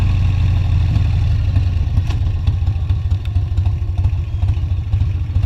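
A heavy Harley-Davidson motorcycle idles up close, a loud, steady, deep lumpy rumble with a slight clatter on top, running continuously with no talking.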